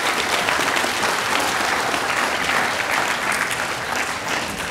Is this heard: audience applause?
yes